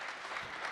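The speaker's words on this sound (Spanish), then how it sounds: "Ahora sí, nuevamente vamos a aplaudir." A church congregation applauds during a Sunday service, with a steady, fairly quiet patter of many hands clapping, heard briefly and without voices.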